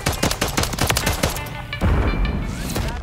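Gunfire from the Modern Warfare 3 video game rattles in rapid, close bursts of shots, then a heavier thump and lower rumble follow as firing continues, with no talking.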